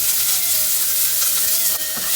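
Roughly chopped onion sizzles steadily in hot oil in a pan while a cauliflower curry is being cooked, a loud continuous frying hiss with small pops, no talking.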